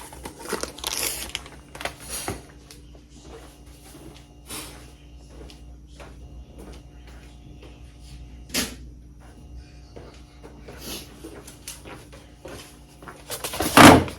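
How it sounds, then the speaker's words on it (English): Packaging is opened and a Cricut infusible ink transfer sheet is cut: scattered crinkles, rustles and sharp handling clicks at close range, ending in a loud burst of crumpling. "I'm going to open this and I am just going to cut a piece of it to cover that."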